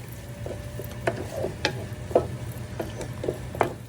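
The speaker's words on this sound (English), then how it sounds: "I've been sauteing it on low medium for about a minute and a half again, 2 minutes" Cumin, asafoetida, onion, tomato, ginger and garlic sauté on low-medium heat in a pan for rajma, a soft steady sizzle punctuated by regular spatula taps and scrapes against the pan over a low hum.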